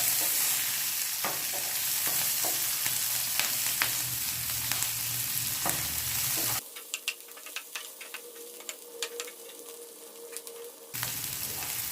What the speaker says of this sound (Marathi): कांदा म्हणजे व्यवस्थित हलवून घ्यायचं